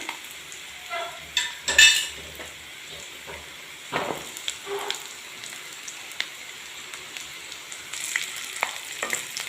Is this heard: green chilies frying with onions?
yes